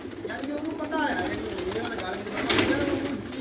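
Breeder pigeons in a loft coo in low, rolling calls that repeat throughout, with a voice talking over them at times.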